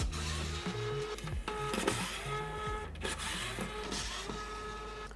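Screws being removed from the power board of a Vizio TV with no video, likely with a powered screwdriver: a close electric whirring that rises and falls in short repeated bursts, with no talking.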